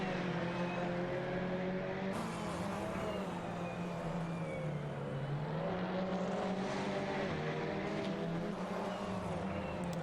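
A TCR touring car engine racing at Croft in a sim racing game drones steadily, with a thin turbo whine rising and falling over it and the pitch sliding as the car accelerates and eases.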